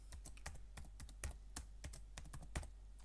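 Keyboard typing on a computer while working in QGIS GIS software, a quick irregular run of close, crisp keystrokes with a few heavier key hits and no talking.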